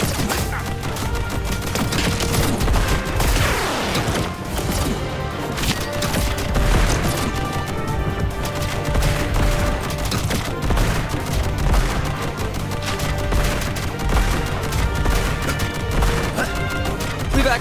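Rapid, dense gunfire from the Contra Operation Galuga action game, with bursts of shots and crashing impacts layered over a busy, loud game soundtrack throughout.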